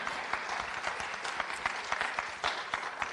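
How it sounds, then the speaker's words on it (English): An audience clapping at a conference session on sexuality education, a sustained patter of many hands at moderate distance, fairly soft and even throughout. "somebody's clapping"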